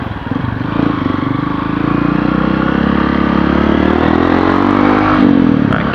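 A Honda XRE 190 motorcycle rides along a street market lane, its engine droning loud and steady throughout with a slight rise in pitch, heard close up with no talking.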